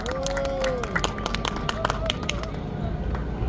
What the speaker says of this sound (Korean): 힘찬 박수로 환영하겠습니다